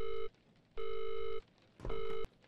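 In the horror video game Visage, a telephone rings in three evenly spaced electronic tones with short gaps between them, clear and close, with a faint knock near the last ring.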